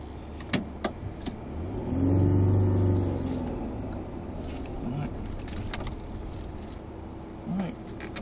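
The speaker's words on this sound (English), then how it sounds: "fantastic sounding engine. Simply fantastic." An Alfa Romeo GTV 3.0 V6 engine revs up in a brief swell, rising and falling around the middle, with quieter running before and after and some faint background noise.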